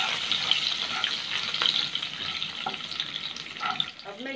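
Finely chopped green chillies with a pinch of asafoetida fry in a pan, giving a steady close hiss of sizzling oil with a few soft stirring taps.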